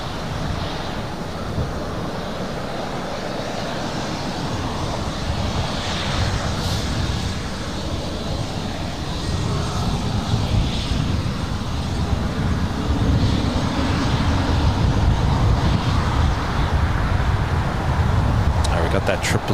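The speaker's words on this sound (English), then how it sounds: "still waiting on that 777-200 heading to Honolulu. Should be the next takeoff here on the south side" Boeing 777-200 airliner bound for Honolulu taking off, a broad continuous engine roar with wind rumble that grows slightly louder over time, with a voice talking over it.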